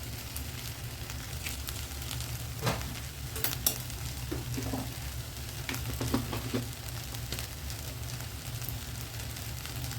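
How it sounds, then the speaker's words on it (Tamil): An egg cracked into a hot pan with ragi semiya upma fries and sizzles in a steady low hiss, with a few scraping clinks from a spoon or utensil against the pan. "முட்டையை அப்படியே உடச்சி ஊற்றிடுறேன்."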